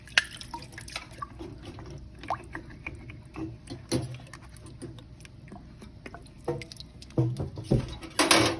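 Alice tissue forceps are rinsed under a running tap, giving a steady close splash of water broken by drips and small metallic clicks as the steel instrument is turned in the stream.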